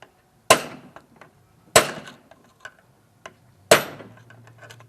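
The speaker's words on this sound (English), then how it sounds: "So we're just going to take a screwdriver and tap them open." A screwdriver taps open retainer tangs on a small engine during an overhaul, giving three sharp, evenly spaced metallic taps about a second apart, each followed by faint small clicks.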